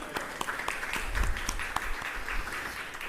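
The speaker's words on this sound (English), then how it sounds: "Let's give our Director of Ceremonies a round of applause." Audience applause at the University of Belize Prize for Investigative Journalism ceremony, a full, continuous burst of clapping from a crowd, with distinct nearby claps cutting through a steady background of hands.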